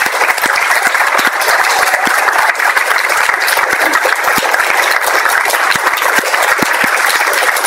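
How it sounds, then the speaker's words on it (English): An audience at a closing session claps in a sustained, dense round of applause, many hands close and steady throughout with no voices rising above it. "Can everyone give a round of applause to everyone?"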